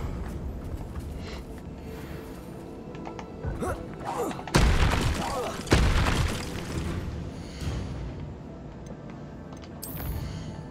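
Confringo fire spell in Hogwarts Legacy: two heavy booming blasts, the second sharper, rise over low game ambience and scattered clicks.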